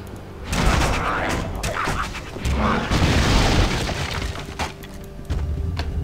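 Exploding demon enemies in the action RPG Torchlight 2 set off a dense, continuous run of booming blasts and crackling, shattering bursts, loud and close, with a voice faintly heard underneath.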